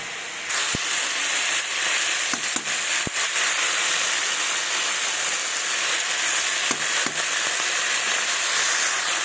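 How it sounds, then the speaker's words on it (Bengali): Ground paste of dried red chilli, cumin, ginger and coriander fries with fish and cauliflower in a pan, giving a loud, dense, continuous hiss with a few sharp pops and clicks, and no talking. "এবার ভালোভাবে মশলাটাকে দিয়ে এবার কষিয়ে নেব"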